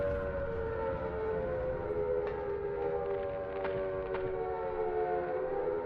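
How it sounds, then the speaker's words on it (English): An air raid siren wails steadily in the game Silent Hill, a sustained droning tone that stays constant throughout, with a few faint clanks beneath it. "Kind of a cool death with the air raid siren."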